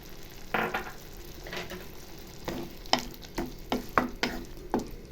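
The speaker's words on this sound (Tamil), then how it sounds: "தக்காளி போட்டு ஃப்ரை பண்ணிடலாம்" Tomatoes frying in a pan of raw plantain gravy, with a steady sizzle broken by a run of sharp stirring scrapes and clinks, close and fairly loud, with no voices.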